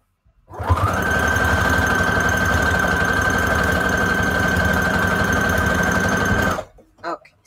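A sewing machine runs steadily for about six seconds while stitching a free-motion squiggle on fabric scraps, a loud, even mechanical whir with a rapid needle chatter that starts and stops abruptly.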